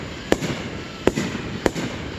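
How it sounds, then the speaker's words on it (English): Fireworks going off outdoors at an Independence Day celebration, three sharp separate bangs at uneven intervals over a steady background hiss. "I said 10 fireworks at once"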